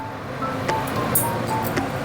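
Shrimp and lentil dumplings boiling in a thin curry over a high gas flame, a steady close bubbling and simmering roar with a few brief pops on top.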